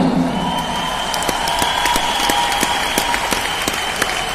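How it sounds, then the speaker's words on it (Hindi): A crowd applauds to welcome a guest speaker, a founder member, at an event: dense, steady clapping fills the whole stretch at close range, with a faint sustained tone beneath and no talk. "तो आपकी तरफ से जो स्वागत किया जाएगा तालियों के साथ"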